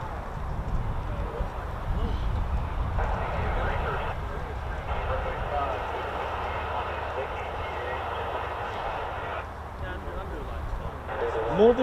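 F-15 and F-35 military jets departing RAF Lakenheath, a broad, steady engine roar heard from a distance that holds throughout and swells slightly at the end.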